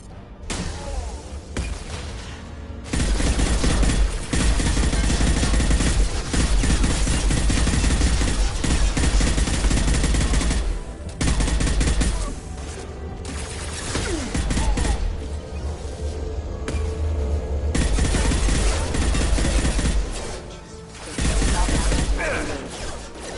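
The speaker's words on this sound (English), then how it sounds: "Firing a high-impact shot!" Mass Effect 2 combat gunfire, sustained loud bursts of shots and impacts layered with booming low rumble, briefly dropping out in short pauses between volleys.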